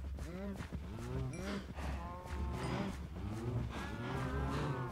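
Cows moo in a video game, several overlapping drawn-out calls following one another at moderate distance, fairly quiet overall with a faint voice in the background.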